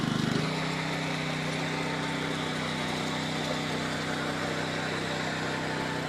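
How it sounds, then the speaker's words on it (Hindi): An engine-powered machine for mixing soil and water into mud runs at a steady idle-like drone. It is close, loud and unchanging throughout, with a slight surge at the very start. "मशीन का काम देखो, इंजन का काम देखो आप, किस तरीके से जरा सी भी आवाज़ चेंज नहीं है"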